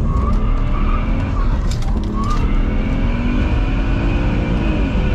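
Tires of a twin-turbo stage 2+ BMW 135i squeal and skid while street drifting, the engine droning loud and close beneath continuous screeching with rising and falling tire whines.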